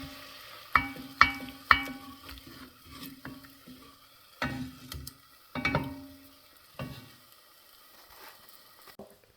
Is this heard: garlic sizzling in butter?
yes